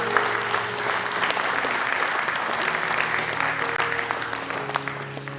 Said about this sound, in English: Come on, give a hand clap for these people.